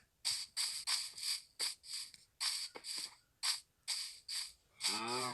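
Cows in Minecraft moo repeatedly, a series of short, evenly spaced lowing calls with brief gaps between them, fairly close and clear, ending in a longer, wavering moo.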